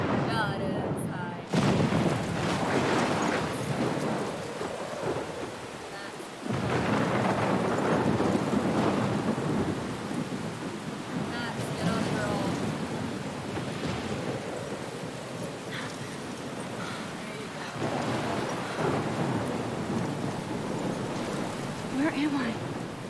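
A thunderstorm in the game Life is Strange: loud, continuous rain and wind with deep rumbling thunder rolls, a sudden cut near the start, and faint voices underneath.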